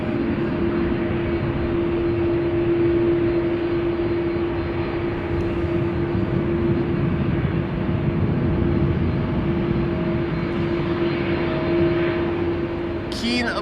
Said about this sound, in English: we're hearing engines of an A330.